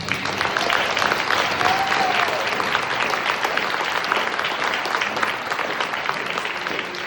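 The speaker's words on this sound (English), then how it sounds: "Let's give these gentlemen a round of applause." An audience at a local candidate forum gives a sustained, dense round of applause for the candidates, loud and continuous throughout with crowd noise mixed in.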